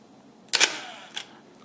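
A Kiev 88 medium-format camera fires its shutter with a sharp mechanical clack, followed a half second later by a softer second click, close and clear in a quiet room.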